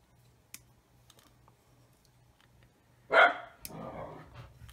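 A single dog bark sounds indoors, sharp and fairly close, during a quiet scale-modelling session. A second, softer yelp follows, with faint clicks and a low hum in the background before it.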